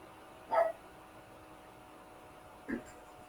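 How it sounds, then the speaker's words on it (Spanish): A dog barking indoors during an online class, two short separate barks a couple of seconds apart, moderately near over a steady background hiss. "mete este pinche perro"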